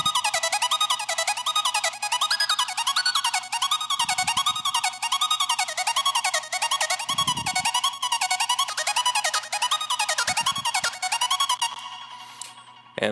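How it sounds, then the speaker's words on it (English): Serum synth arpeggiator built on a basic saw wave patch in a heavy future bass drop, rapid bright stepped notes cycling in repeating rising and falling patterns, loud and continuous with occasional low thumps beneath, fading away at the end. "Then in the second half of the drop, I add this arpeggiator."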